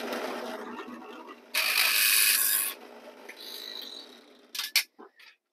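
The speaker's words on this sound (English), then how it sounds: "I'm just going to use the drill bit here real quick." A drill bit grinds against a metal Altoids tin for a DIY alcohol stove, a harsh close rasp in one loud burst of about a second, followed by quieter scraping and a few short bumps.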